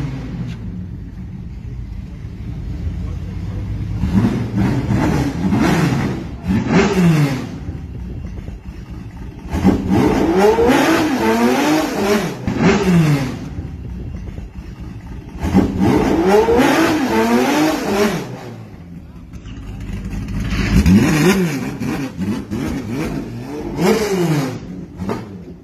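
A Falcon SP car engine revs repeatedly in bursts, rising and falling in pitch with short pauses between, loud and close.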